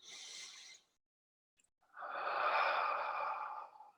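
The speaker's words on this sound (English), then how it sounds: "it will be what's called a deep diaphragmatic breath" A deep diaphragmatic breath, a soft inhale, a pause of silence, then a long, steady exhale, close and quiet with no talk.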